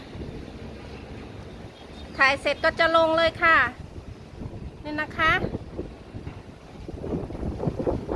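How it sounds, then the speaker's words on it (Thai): Strong wind in a Phnom Penh rainstorm, with dust and dark clouds, rumbles and buffets the microphone continuously while someone talks over it in bursts. "ลมแรงมากเลยค่ะ"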